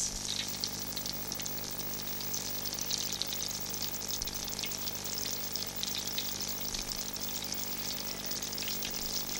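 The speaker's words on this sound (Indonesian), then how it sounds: "kita goreng semua ya sampai habis." Crispy milkfish fries in hot oil, giving a continuous close sizzle with bursts of crackling and popping over a steady low hum. No talking is heard.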